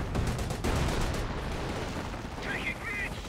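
Mortar shells exploding on infantry squads in the World War II strategy game Company of Heroes, with dense rumbling blasts and crackling gunfire filling the whole stretch amid battle noise and a brief higher whine near the end.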